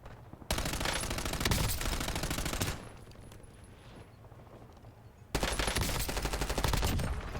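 Automatic gunfire in a shooter video game comes in two long, dense, loud bursts separated by a quieter stretch of lingering game noise, with no talking.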